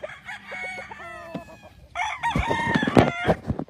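Chickens and a rooster on a large Philippine farm during vaccination, with clucking and overlapping crows, a sustained crow early on and a denser burst of louder calls and crowing in the second half.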